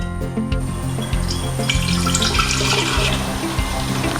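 Homemade beetroot wine poured into a glass bottle, a continuous close gurgling stream of liquid filling the bottle with no talk.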